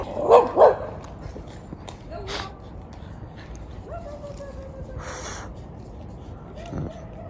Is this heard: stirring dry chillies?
no